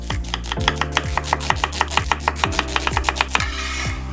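An onion being finely chopped with a knife, close and crisp, with rapid, evenly spaced blade strikes against a cutting board running continuously for about twenty strokes before trailing off.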